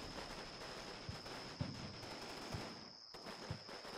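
Light machine gun bursts in the wartime strategy game Combat Mission Red Thunder, a series of quick muffled rattling shots over a constant background din with a steady high tone, brief pause near the end.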